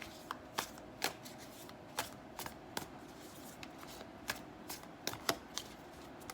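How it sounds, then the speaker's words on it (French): Tarot cards are shuffled by hand in a quiet room, a series of soft, crisp riffling snaps at irregular intervals, close and fairly faint, with no talking. "avec le tarot, je vais tirer 5 cartes pour clarifier tout ça"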